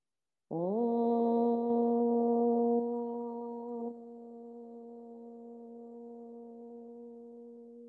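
A single sustained Om tone chanted at the close of a gentle yoga class, one long steady hum that starts loud, softens a little partway through and holds evenly to the end with no talking.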